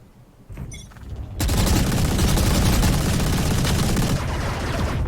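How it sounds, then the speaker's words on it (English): Video game gunfire erupts in a loud, sustained burst of rapid shots after a brief quieter lead-in, filling the clip with dense crackling fire. "Look at that wall bang, Nerge."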